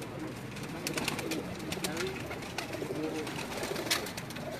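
Pigeons kept on a rooftop loft in Jeddah, Saudi Arabia, coo in soft repeated calls, several birds overlapping, with a voice briefly talking among them.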